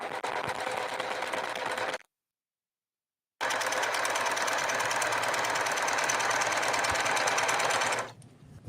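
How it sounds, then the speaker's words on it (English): Sewing machine stitching the lining of a tote bag, a dense steady motor whir running in two continuous stretches split by a short pause, close and even throughout. "And then sew all the way down and around."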